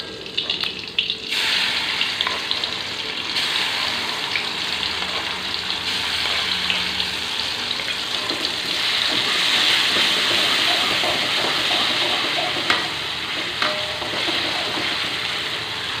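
Ground spice paste fries loudly in a wok for an Indonesian green eggplant stir-fry, a dense, continuous sizzle that swells as it is stirred, close and steady throughout.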